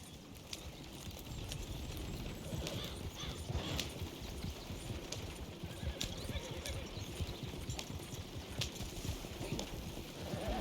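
Hoofbeats of a horse galloping in Red Dead Redemption 2, a steady rapid clip-clop rhythm running continuously at close range over a soft outdoor ambience, with no talk.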